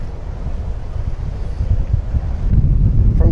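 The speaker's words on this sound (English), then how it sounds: "Oh, the wind's picking back up." Wind buffets a microphone on a rainy, windy day at Port Canaveral, Florida, a continuous low rumbling roar that swells louder in the second half, with water and surf-like wash underneath.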